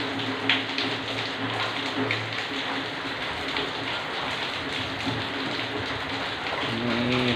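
Steady heavy rain falling outdoors on a building site with perspex roofing, a continuous dense patter with no pauses, loud and close.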